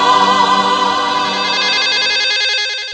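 A mobile phone rings loudly in a classroom, a bright electronic ringtone that repeats steadily for about three seconds before cutting off, with no talking over it.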